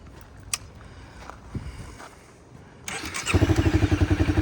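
A Honda CRF250L trike engine is started: quiet idle background, then a cranking catch and the engine fires up into a loud, steady, pulsing idle that continues to the end.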